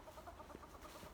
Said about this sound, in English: I hear chicken.